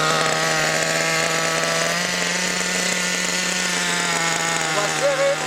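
A nitro model engine runs during break-in and carburettor tuning, a loud, continuous high-revving buzz with a steady tone that shifts slightly as it is adjusted, alone with no talk over it.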